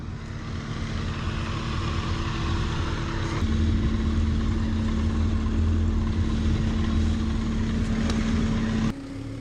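A motorcycle ridden out of Sequoia National Forest, a steady loud engine drone with wind rush throughout, one brief shift near the middle and an abrupt drop near the end, no talk.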